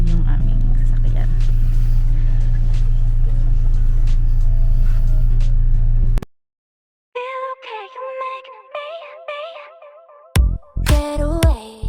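A tour bus travels along, its steady low engine drone and road rumble filling the cabin under a person talking, then cutting off abruptly into silence before music begins.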